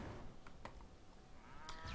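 A cow moos in RuneScape 3, a single low, faint call with no voices.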